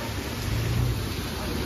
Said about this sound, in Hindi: और ओले देखो ओले बहुत भयंकर भयंकर